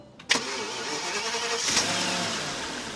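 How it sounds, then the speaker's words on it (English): A VW Phaeton W12 with 73,424 miles cranks on its starter motor for a moment, then catches and fires into a smooth, steady idle, recorded close by with no talking. "I just love the starter motor noise on all these 12-cylinder cars"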